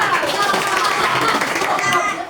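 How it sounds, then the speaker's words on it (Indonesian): Children in a classroom clap for the winning team of a quick-answer quiz, a busy, steady spatter of hands mixed with excited kids' voices throughout. "Tepuk tangan untuk kelompok 2."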